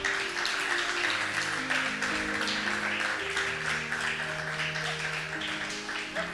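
An audience at a youth church event claps steadily for several seconds, sustained applause with music tones holding underneath.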